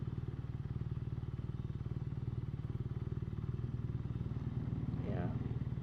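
A 2016 BMW R nineT motorcycle runs with a steady, close, rhythmic boxer-engine thrum that holds even throughout, with a brief whine near the end.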